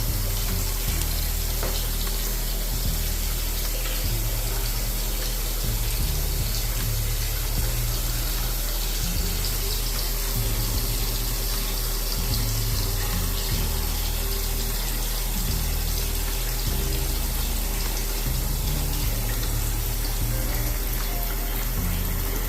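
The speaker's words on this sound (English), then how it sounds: "These sinks are really small and you have a lot of flow coming out of this sink." Water gushes steadily from a tap into a small bathroom sink in a new home, a loud, continuous hiss and rush of high flow that holds for the whole stretch with no voices.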